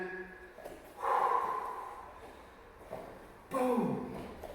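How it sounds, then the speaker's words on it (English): Quick sharp breaths are drawn through the nose and mouth during a bag kicking drill, two loud snorting gasps close up with a quieter one between them. "You're getting those, what we call cheat breaths in there."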